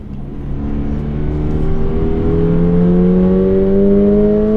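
Toyota GR86 Premium sports car pulling away, its engine note climbing steadily in pitch as it accelerates, heard close and continuous from inside the car with no talking.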